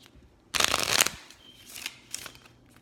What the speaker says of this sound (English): I'm actually trying to shuffle these cards.